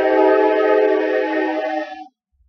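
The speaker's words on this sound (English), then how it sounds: "I'm going to wait through this train." A loud, steady horn blast with bright harmonic layers sounds from a train passing close beside the tracks, holding for about two seconds before cutting off into near silence.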